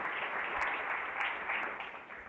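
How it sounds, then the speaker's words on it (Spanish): A church congregation claps together for about two seconds, a steady dense patter of many hands at moderate volume that tapers slightly toward the end, with no voices over it. "Damos aplausos al Señor por su palabra."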